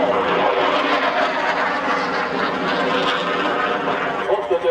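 McDonnell Douglas Phantom jets fly at an air show, a loud, continuous engine roar that fills the whole stretch and swells slightly toward the end.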